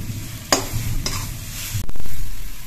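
Thickened taro leaves (kochu shak) cook in a pan, a low sizzle broken by a few sharp spatula scrapes and knocks, then a louder burst of stirring near the end; no speech.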